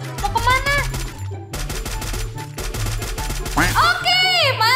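Rapid automatic gunfire in the Free Fire battle royale video game, loud repeated shots layered over a pulsing game music bed with bright synth sweeps.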